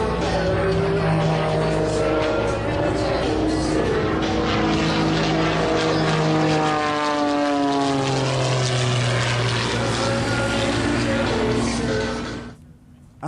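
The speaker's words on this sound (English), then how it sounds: "Give it the worthy name of the Ghost Rider." A propeller airplane drones steadily overhead at EAA AirVenture, a loud continuous engine hum whose pitch slides as it passes, then cuts off abruptly at the end.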